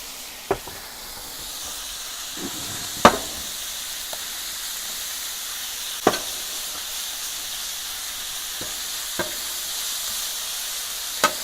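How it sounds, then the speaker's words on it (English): A ribeye steak sizzles on a salvaged, converted Weber Spirit griddle with a steady, close frying hiss, broken every few seconds by short sharp clicks and taps of a spatula on the metal. "And then we're just going to put the steak on there."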